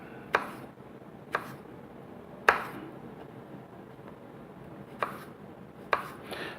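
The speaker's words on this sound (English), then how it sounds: "I cut them into little fingers." Knife cutting eggplant into finger-sized pieces on a board, five or six sharp isolated chops spaced irregularly over a quiet background, close and fairly crisp.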